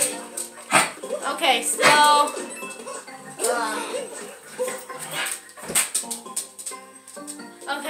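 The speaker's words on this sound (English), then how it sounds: "Getting distracted by a dog of ours." A household dog barks and yips intermittently while Super Mario Odyssey game music plays and a person talks.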